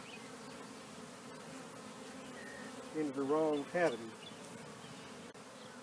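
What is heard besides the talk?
honeybees buzzing at an opened hive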